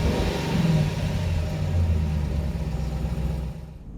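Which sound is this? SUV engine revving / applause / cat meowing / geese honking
SUV engine revving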